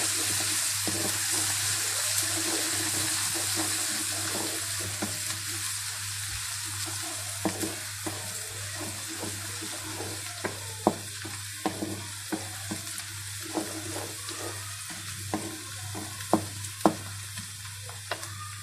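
Garlic-ginger paste and onions frying on low heat make a continuous close sizzle, with a low steady hum underneath and sharp spoon scrapes and clicks against the pan that grow more frequent toward the end; no one speaks.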